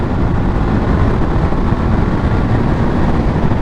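A Honda CBR500R sport motorcycle rides along, its engine a steady low rumble buried under heavy wind rush, loud and continuous with no speech.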